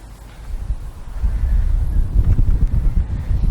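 Strong wind buffets the microphone outdoors, producing a heavy, gusting low rumble that swells after the first second and keeps pulsing loudly to the end.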